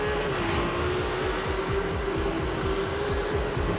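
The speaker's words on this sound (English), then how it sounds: "on the combustion and on the exhaust system to create this magnificent" A Ferrari 296 GTB mid-engine V6 plug-in hybrid engine roars continuously at high revs, with a throaty exhaust note and a rising pitch as it accelerates, close and loud.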